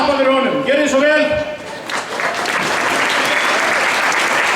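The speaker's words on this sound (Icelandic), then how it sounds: "Við skulum byrja á því að klappa fyrir honum." A crowd at a Þorrablót midwinter feast in Svarfaðardalur breaks into loud applause for a newly introduced man, the clapping swelling from under a talking voice into a dense, steady roar.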